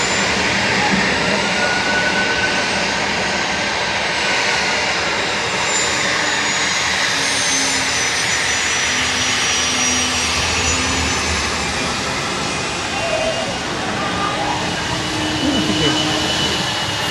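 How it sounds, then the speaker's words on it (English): Engines of an Embraer Praetor 500 business jet, just arrived from Conroe, Texas, whine and rumble loudly and continuously at Dallas Love Field, with a rising and falling turbine tone. "It's an Embraer Praetor 500 just come in from Conroe, Texas."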